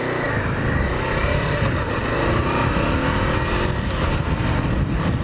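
A Honda CB500F motorcycle rides along Pine River Road, its engine droning steadily and close with constant wind rush, no voices over it.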